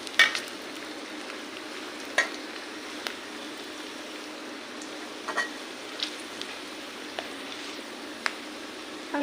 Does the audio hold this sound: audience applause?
no